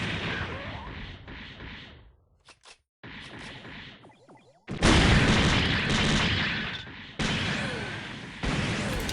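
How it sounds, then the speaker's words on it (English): Grenades launched and exploding in the SD Gundam Online game, a series of sharp booms and blasts separated by brief gaps, with heavier, louder explosions in the second half. "Those grenades are awesome."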